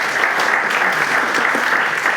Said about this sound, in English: Why don't we give Monty a round of applause?